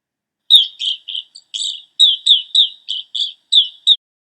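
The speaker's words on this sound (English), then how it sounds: "Evening grosbeak." Evening grosbeak song: a string of about a dozen short, clear, high chirped notes at an even quick pace, loud and close with no background noise.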